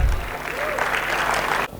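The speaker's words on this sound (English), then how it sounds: "A big round of applause for them," Applause from a conference audience at a football science and technology session, a steady dense clatter of many hands that cuts off abruptly near the end.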